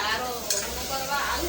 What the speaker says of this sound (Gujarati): અને મમ્મી જમવાનું બનાવે છે